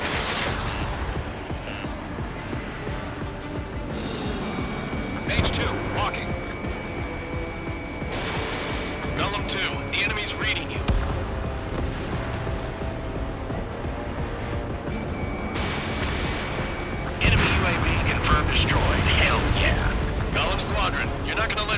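Air-combat sounds from the Ace Combat 7 flight game: a steady roaring jet drone broken by whooshing missile launches and booming blasts, with a louder surge near the end and radio voices talking over the action.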